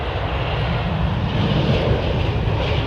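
A jet aircraft engine roars loud and close at London Heathrow Airport, a dense continuous rumble holding steady throughout with no voices.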